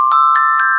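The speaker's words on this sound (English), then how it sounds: "Glockenspiel." Three bright, ringing metallic notes struck on a glockenspiel, picking out a jingle in a short rising phrase, each tone sustaining cleanly with no voices.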